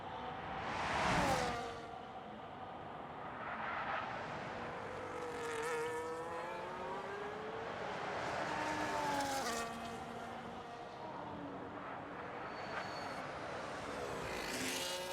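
Race car engines whine and sweep past around the Monaco hairpin in a racing video game, with a sharp nearby pass at the start and then rising and falling revs from several cars, with no talk.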